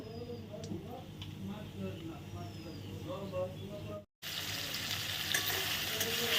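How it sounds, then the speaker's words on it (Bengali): Nigella seeds dropped into hot white oil in a wok for tempering burst into a bright, close sizzle after a short break, preceded by several seconds of someone talking over low kitchen background. "আমি হোয়াইট অয়েল কড়াইতে কিন্তু দিয়ে নিয়েছি দিচ্ছি কি কালো জিরে ফোড়ন"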